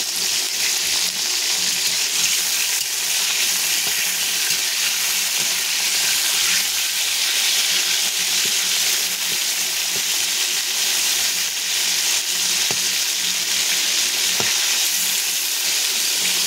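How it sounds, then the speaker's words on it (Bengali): Mutton pieces fry in hot oil and are turned over, making a loud, dense and unbroken sizzle that holds steady throughout with faint occasional scrapes. "এরপর এটাকে আমি উল্টে পাল্টে আর এক পাশ ভালো করে ভেজে নেব।"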